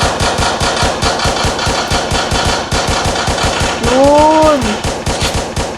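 Rapid automatic gunfire from a gun in a Roblox video game, a dense run of evenly spaced shots throughout, loud and close. A voice speaks briefly over it near the end.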